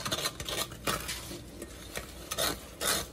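Butter sauce of butter and sugar being stirred in a pot on the stove to dissolve the sugar, giving soft scraping and clinking of a utensil against the pan in irregular strokes, close up with no talk.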